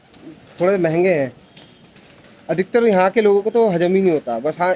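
Homing pigeons coo in repeated throaty, warbling bursts close by, while someone talks intermittently over them.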